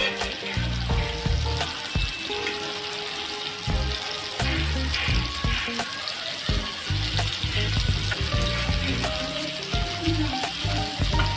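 Stuffed prawns frying in a pan in a Maharashtrian kitchen, a dense, continuous crackling sizzle with bursts of popping and occasional clatter, close and loud, with no talking.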